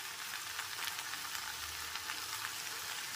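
Steamed vegetables sizzle softly in ghee while being stirred, a faint, steady frying hiss with light scraping.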